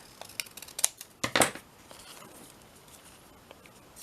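Scissors snip through paper while trimming pieces for a pink ballet-themed craft card, a few quick crisp cuts bunched in the first second and a half, then quiet with faint rustles.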